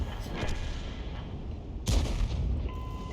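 A tank cannon shell fires in a World War II tank game, a single broadband boom near the middle, heard over a steady low engine rumble with voice chatter in the background.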